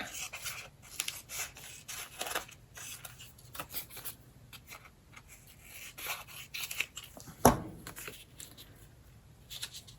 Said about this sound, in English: let me just trim it up